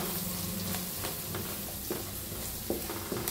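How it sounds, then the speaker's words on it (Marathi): Spice masala with curry leaves and chilli roasts in a pan with a constant dense sizzle, while a spoon scrapes and stirs in several soft strokes. "छान भाजून घेऊया मसाल्याला बी."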